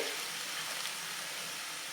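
A steady soft sizzle of spinach leaves frying in a hot pan, faint and continuous for a couple of seconds.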